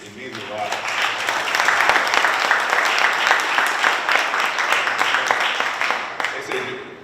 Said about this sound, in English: I think you all should give each other a round of applause for showing up